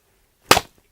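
A slipper slapped against raw flank steak to make a movie punch sound effect: one sharp, loud, fleshy smack, close and isolated in silence, with a tiny faint tap after it.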